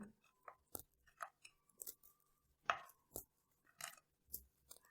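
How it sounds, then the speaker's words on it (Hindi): Biscuits snapped into small pieces by hand, a series of short, crisp cracks and crunches spaced irregularly, close and fairly quiet, with pauses between breaks. "बिस्किट्स को तोड़ लेना है बारीक बारीक ऐसे।"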